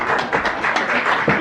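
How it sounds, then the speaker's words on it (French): Studio audience applause at a French television show, a short dense burst of clapping, close and fairly loud, continuous for the brief moment. "vous pourriez applaudir un peu plus fort"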